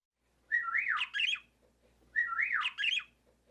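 A voice imitates a high-pitched parakeet tweet: two bright, whistly chirping calls, each a rapid warbling trill, delivered clearly and alone with brief pauses between.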